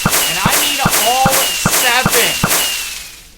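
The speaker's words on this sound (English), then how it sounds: "We got all of them to shoot out fireworks." Fireworks shoot off in the Lego Island video game: a rapid series of sharp cracking pops, some with rising whistles, repeating roughly every half second and fairly loud.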